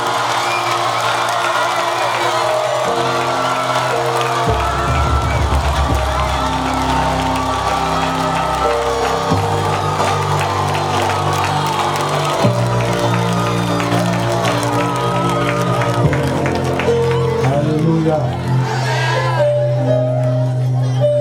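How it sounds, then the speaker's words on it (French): A church congregation at a night worship event erupts in loud, sustained cheering, whoops and shouts of joy, with music playing underneath and voices carrying through the hall. "on va pousser les cris de joie et acclamer très fort le Seigneur pour eux"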